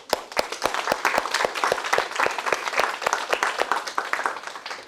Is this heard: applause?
yes